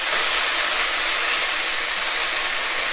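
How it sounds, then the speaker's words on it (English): Pork tenderloin sears in a hot pan with a loud, steady, close sizzle and hiss that never lets up and has no talk over it. "You want to sear it and get that nice brown color."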